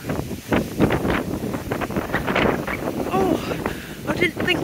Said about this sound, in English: It's ever so windy.